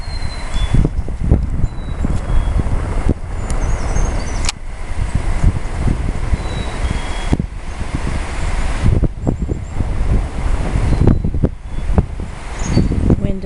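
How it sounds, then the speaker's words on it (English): Wind blows steadily across a Maine pond as the spring ice breaks up, a loud, constant rumbling roar with gusty buffeting against the microphone throughout. "Wind is what's going to help get it all out of here."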